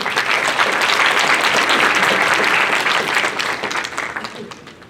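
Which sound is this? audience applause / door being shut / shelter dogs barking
audience applause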